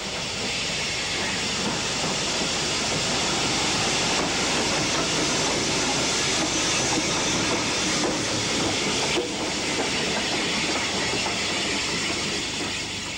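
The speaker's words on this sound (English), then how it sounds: "Blackmore Vale draws a special train into this famous station." Steam locomotive Blackmore Vale hauls a special train into Salisbury station, a steady broad rumble and hiss of engine and rolling stock held at constant loudness throughout, near and unbroken.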